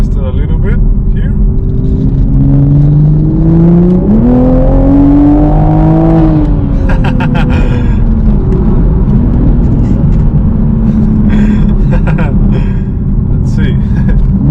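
Toyota Supra MK5 fitted with a CTS turbo inlet pipe revs up from cabin idle, the engine note climbing steadily and then settling back into a steady rumble, with turbo whooshes and a voice speaking over it.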